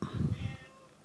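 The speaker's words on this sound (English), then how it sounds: "You can hear my cat in the background probably." A pet cat meows faintly in the background of a quiet indoor room, a single drawn-out call that fades into near silence.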